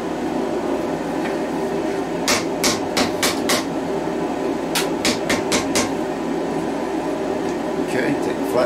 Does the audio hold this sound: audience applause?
no